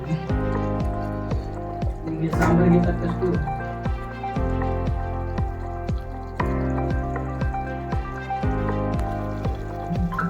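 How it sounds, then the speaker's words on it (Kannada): Water pours and splashes into a village-style North Karnataka mutton curry in a short liquid burst, under someone talking and rhythmic background music. "ನಾವು ಎರಡು ಗ್ಲಾಸ್ ನೀರು ಹಾಕೊಳ್ತಾ ಇದ್ದೀವಿ"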